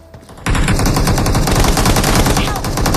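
Sustained automatic gunfire in a video game shooter, a loud, dense rapid burst that starts abruptly and keeps going without pause, with a voice speaking over it.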